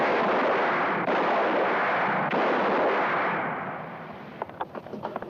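Gunfire in a western film: a few loud booming shots, each with a long rolling echo, fade away and give way to faint scattered clicks.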